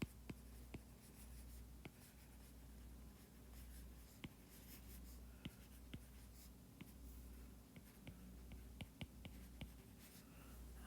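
Marker or chalk strokes on a lecture-hall board, a steady run of short scratchy taps and squeaks scattered over about eleven seconds, faint and fairly close, with a low hum of room noise underneath and no talking.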